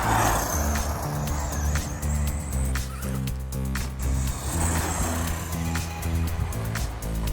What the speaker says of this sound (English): This truck does handle really well.